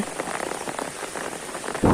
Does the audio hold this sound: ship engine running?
no